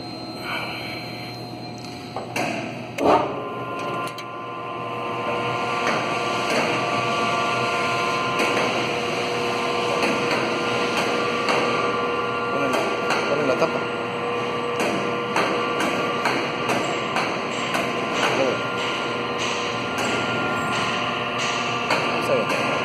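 A 5 hp shredder machine runs steadily with a loud, dense mechanical roar and clattering, continuous throughout after a brief start, with talking faintly mixed in.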